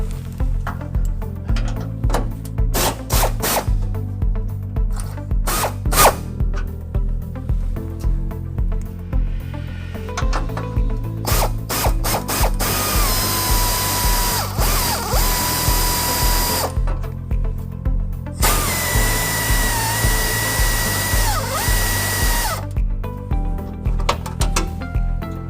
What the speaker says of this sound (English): we're going to take these bumper bolts up here and we're going to loosen them about halfway.